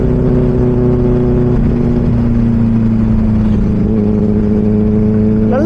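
A Benelli 600i motorcycle with an Ixil exhaust, its engine held at a loud, steady idle-to-mid rev with a deep tone, swelling into a quick rising rev at the very end.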